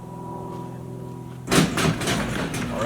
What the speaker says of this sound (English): Alright, so the door is closing.